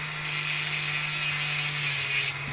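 A grinding tool works on excess cast metal of an old iron Christmas tree stand, a steady high-pitched whining grind with a low motor hum beneath, starting briefly after a pause and cutting off near the end.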